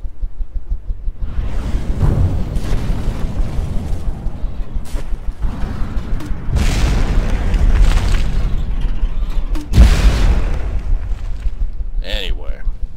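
Naval combat in the game From the Depths, a missile ironclad taking fire: rumbling booms and bursts under continuous talk, with sharper impacts around the middle and a loud hit near the end.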